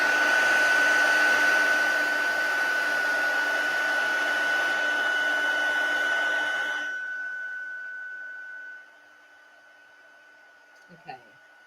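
A heat embossing tool blows a loud, steady stream of hot air over a stamped card, then stops abruptly, leaving near silence and a few small handling clicks.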